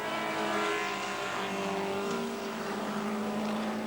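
A 1984 Group A race car with a 1600cc engine laps the Bathurst circuit, its engine droning steadily at high revs with a sustained, slightly shifting pitch, heard from a distance.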